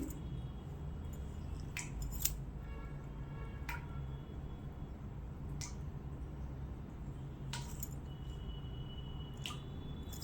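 Vegetables with turmeric stirred in a pot for sambar dal in a village kitchen, giving a few scattered wet squelches and scraping clicks spread irregularly over a low steady background hum, quiet and close, with no talking.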